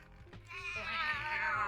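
A cat gives one long, drawn-out, plaintive meow, close and fairly faint, with a soft noise before it.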